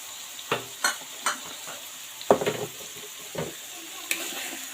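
Ginger, cumin and garlic pastes with shrimp are sautéed in a pan, giving soft sizzling with intermittent scraping stir strokes spaced about a second apart, close and moderately quiet.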